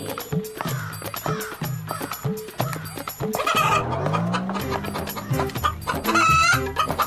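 A rooster clucks and calls in short repeated bursts, joined by bleating animal sounds and a rising crow-like cry toward the end.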